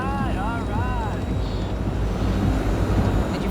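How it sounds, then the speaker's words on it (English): Steady low drone hum from a hovering drone in Cyberpunk 2077, set in the Badlands, rumbling continuously throughout with faint wind-like noise and brief tonal chirps near the start. "Did you fire up that drone?"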